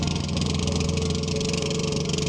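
Small fast boat's engine droning steadily and fairly close, a continuous buzzing hum with no talk over it.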